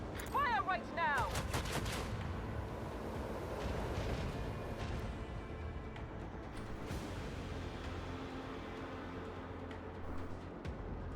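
Gunfire in the video game Warhammer 40,000: Rogue Trader, a burst of sharp rapid shots followed by rumbling blasts and a long rolling decay, with brief mechanical chirps at the start and no talk over it.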